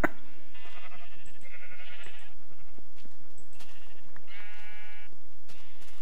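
Sheep bleating in the video game Minecraft, several short nasal bleats in succession over a busy background of game sounds, loud and close, with no speech.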